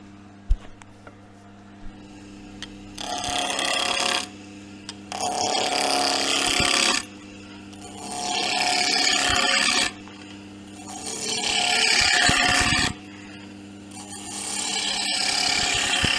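Wood turning on a lathe produces repeated bursts of rough scraping and hissing as the tool cuts shavings, in about five passes separated by quieter gaps, close and fairly loud over a low motor hum.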